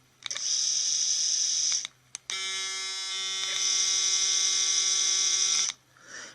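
A Braun Series 7 790cc electric shaver runs with a loud high-pitched buzz, switching on for about a second and a half, cutting out briefly, then buzzing steadily again before stopping.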